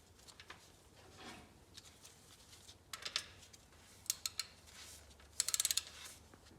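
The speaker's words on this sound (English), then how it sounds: "we're going to put back in the sump plug, but again, this does not have to be too tight" A ratchet tightens the oil sump plug on a Saab 9-3 during an oil change, heard as faint short bursts of quick mechanical clicks, the last burst a rapid run of ticks, against a quiet background.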